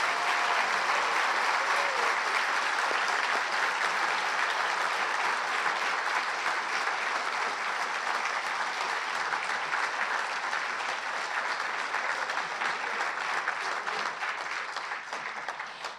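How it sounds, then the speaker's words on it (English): Audience applause at a hometown heroes award ceremony, a sustained dense wash of many hands clapping steadily for a long stretch, fairly loud and even, tapering slightly at the end. "So please let's give a warm round of applause to Joe Flay Haven."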